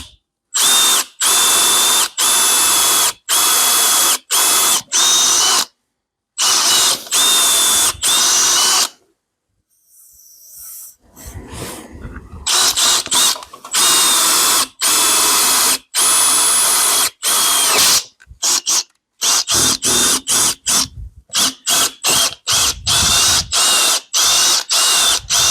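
A drill bores in a workshop during a milling machine restoration, running in loud, close bursts stopped by short silences and a longer quieter stretch in the middle.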